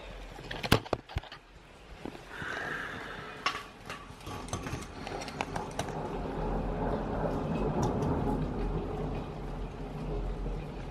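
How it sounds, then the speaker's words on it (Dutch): Heavy rain pours down during a thunderstorm, a steady dense hiss with a low rumble underneath and a few sharp cracks near the start. "Ik heb zo lang geen bliksem en donder gehoord. Het regent als een gek, jongen."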